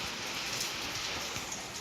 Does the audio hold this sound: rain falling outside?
yes